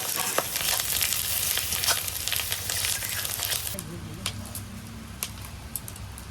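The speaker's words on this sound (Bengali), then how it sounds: "ডিমের সাথে তেলের সাথে সুন্দর করে ভেজে নিয়েছি পেঁয়াজটা।" Onion and egg frying in oil with aubergine in a home kitchen pan give a steady close sizzle with scattered crackles and stirring scrapes, easing toward the end as a low hum comes in.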